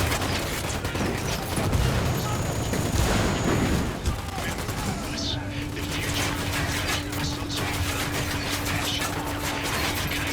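A grenade explodes amid rapid gunfire in the Ghost Recon Wildlands video game. Dense crackling shots and a heavy blast fill the first half, then a steady hum and scattered clatter continue.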